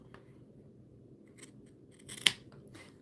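Scissors trim paper for a junk journal: a few soft snips, then one sharp, close cut, in a quiet room with no speech.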